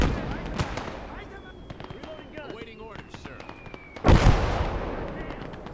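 A grenade goes off in the WWII strategy game Gates of Hell: Ostfront, a single loud, close blast that stands out over scattered background clicks and distant combat.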